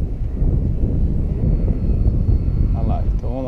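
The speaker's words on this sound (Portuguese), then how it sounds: "esse é o voo do avião, com meio motor" A Telemaster 400 model airplane flies overhead with a rough, sputtering engine running at partial power, a loud continuous droning buzz over gusty wind, with a voice briefly speaking near the end.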